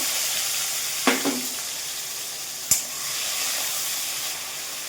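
Tomatoes and curry leaves sizzle in hot oil with cumin and asafoetida, a steady close hiss of frying broken by two brief clatters from the pan.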